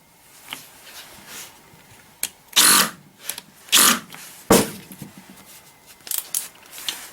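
A Bosch or Einhell 18V cordless drill driver run at maximum first-gear speed, several short loud motor bursts separated by pauses and small clicks, close to the listener with no talk.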